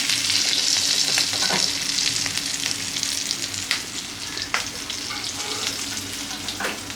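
Prawns frying in oil for a prawn chop: a loud, bright sizzle that eases slightly over time, punctuated by a few crisp pops and spatula scrapes, heard alone without speech.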